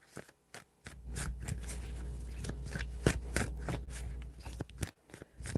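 A deck of tarot cards is shuffled close up, with bursts of rapid riffling and flapping card noise between a few quiet gaps, soft and intimate.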